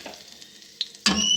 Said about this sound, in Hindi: अभी दूसरी साइड पे मैंने घी गरम किए, इसमें मैं लहसुन डालूँगी